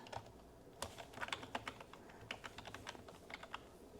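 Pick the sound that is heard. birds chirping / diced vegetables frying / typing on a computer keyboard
typing on a computer keyboard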